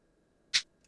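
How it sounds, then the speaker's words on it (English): A cabasa voice from an EMU percussion drum module plays one short, bright, dry shaking scrape, followed by a much fainter second tick a moment later, alone against silence. "it is a Cabasa sound"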